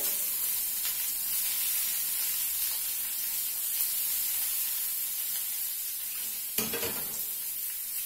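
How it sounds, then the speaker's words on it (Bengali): Wet dried red chillies and chopped garlic spit and crackle in hot oil in a pan, a steady sizzling hiss with scattered pops and one louder burst near the end, no voices. "শুকনো লঙ্কা, যেহেতু জলের মধ্যে আছে ছটফট আওয়াজ হচ্ছে"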